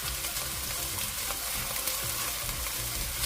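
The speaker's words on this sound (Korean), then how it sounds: "예열된 팬에 식용유 2큰술을 두르고 대파를 넣고 중불에서 볶아 파기름을 내줍니다" Green onions frying in two tablespoons of cooking oil in a preheated pan over medium heat, a steady dense sizzle and crackle throughout with faint stirring, close and continuous with no voices.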